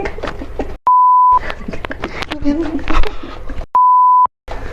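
Two loud, steady censor bleeps, each about half a second long, cut through lively casual talk between friends, with speech continuing around and between them.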